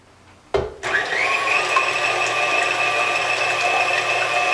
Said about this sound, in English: 4 egg whites go into the mixer